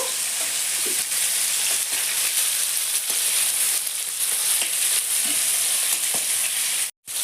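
Prawn heads frying in hot oil, a loud, steady, close sizzle with faint crackles throughout that cuts out abruptly just before the end.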